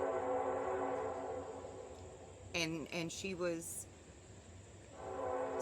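A train horn sounds in a few loud, tonal blasts over about a second as a train goes by, with a person talking before and after it and a steady rumble underneath.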